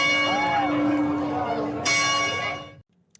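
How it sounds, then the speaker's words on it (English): A chapel bell in Athens, Georgia rings with a sustained, loud metallic toll and lingering overtones, a second strike sounding before it cuts off abruptly. "The chapel bell tolls in Athens,"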